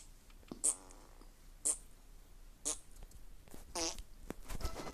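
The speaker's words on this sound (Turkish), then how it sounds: "Osur diyor ya bir osur osur." A few short, sputtering fart sounds with brief pauses between them, each a quick raspy burst, with no one talking.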